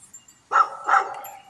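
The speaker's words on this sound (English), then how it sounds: "I apologize for the dogs, even here at work. That's all they do is bark here." Dogs barking nearby at a workplace, two loud barks about a third of a second apart followed by a fading yelp, with no talk.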